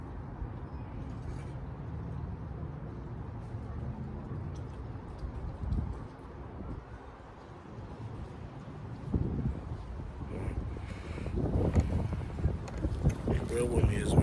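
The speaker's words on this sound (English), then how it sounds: "Damn wind, man. It's kind of windy out here." Wind buffets a microphone outdoors, a rumbling, gusty roar that swells and strengthens toward the end, with talk faintly underneath.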